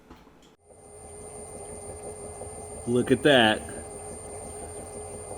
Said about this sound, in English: I know that noise is annoying, but the motor is spinning.